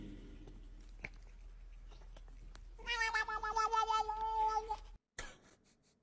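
After quiet rustling, a cat lets out a long, wavering meow up close, followed by a brief cut and a shorter trailing sound.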